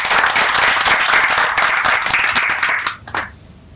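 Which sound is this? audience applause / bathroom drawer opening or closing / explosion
audience applause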